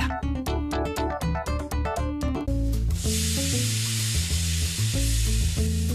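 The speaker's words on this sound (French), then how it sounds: "On égoutte les pâtes maintenant? C'est très très chaud." Rhythmic music plays at first, then a loud, steady rush of very hot water and steam takes over as pasta is poured out to drain.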